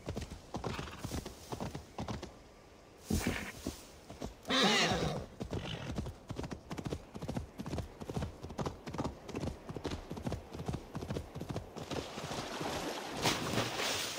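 Steady clip-clop of hooves at a quick pace with a loud neigh partway through, plus some splashing as the horse swims, all up close, in the video game Assassin's Creed Valhalla.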